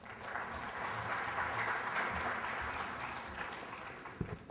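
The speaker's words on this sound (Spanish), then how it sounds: "Un aplauso, por favor." An audience at an official ceremony of the Federal District Electoral Tribunal claps steadily for several seconds, a dense, even applause that tapers slightly at the end.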